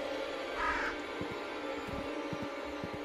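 Crows caw in the dark horror adventure game The Last Door, a few short harsh calls over a steady eerie ambient drone, fairly faint and spaced out.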